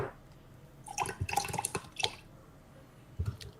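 Drink poured right beside the microphone, a close, faint splashing and trickling with small drips and gurgles in uneven bursts, heard alone.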